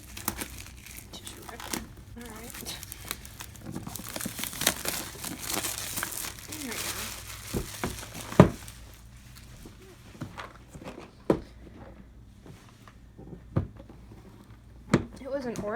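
Box of the 1775: Rebellion board game being opened, with crinkling plastic wrap, rustling cardboard and occasional sharp knocks as the lid and contents are handled, while someone talks in the background.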